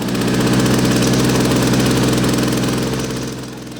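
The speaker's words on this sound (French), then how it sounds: "Avec la motopompe, on peut utiliser cette moto pour intervenir en" A portable fire motor pump engine runs close by, loud and steady, with a chugging mid-range drone that eases off slightly at the end; no voices.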